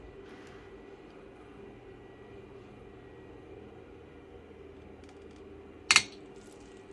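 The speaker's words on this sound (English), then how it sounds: "that big tick sound, that was the output MOSFETs shorting and fusing open one of the MOSFET legs" An amplifier's output MOSFETs short and fuse open during a sine-wave stress test, making one sharp, loud tick near the end after a long quiet stretch of low background hum.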